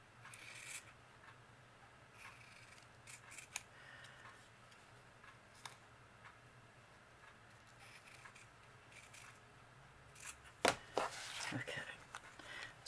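Scissors snip a paper bird wing in a few quick, faint cuts, with sharper clusters near the end, set against quiet room tone.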